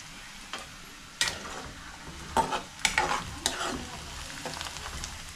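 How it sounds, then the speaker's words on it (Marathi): Chopped onions fry and sizzle in a pan over a fire and are stirred with a few scraping spoon strokes, a steady hiss near and moderately loud, with no talking. "आता कांदा भाजून झाला आहे"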